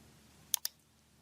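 A mouse button clicks twice in quick succession to pick New Node from the toolbar in RFEM 6 structural modeling software. Two sharp, close, dry clicks break an otherwise quiet room.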